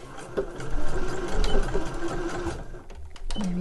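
A sewing machine stitching a fluffy fleece lining for slipper boots runs in a close, steady mechanical whirr for a few seconds, then stops with a few clicks, with no talking.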